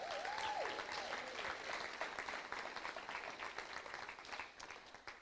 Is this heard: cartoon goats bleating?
no